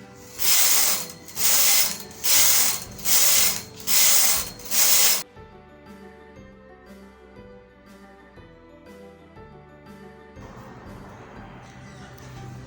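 A knitting machine carriage is pushed back and forth across the needle bed while knitting straight rows of a turtleneck dress, giving five loud, even mechanical ratcheting sweeps with short gaps between them, followed by quieter clicking and mechanical rattles.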